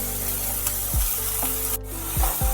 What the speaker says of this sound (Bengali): খুব হালকা করে বেগুনগুলো একটু ভেজে নিতে হবে।